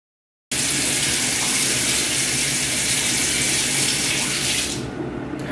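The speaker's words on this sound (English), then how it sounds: "now I'm gonna turn the water on. And I like to wait for the water to get pretty hot" A bathroom tap runs full and steady as water is left flowing to heat up, a loud continuous splashing rush into the sink that eases off slightly near the end.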